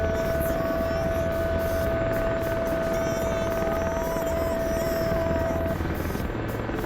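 A Chinook helicopter in a video game drones with a steady, loud rotor hum and a constant whine, continuous and close throughout with no talking.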